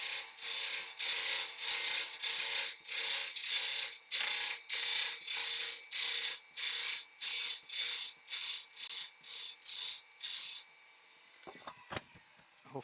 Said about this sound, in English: So I'm just going in the roughing gouge here.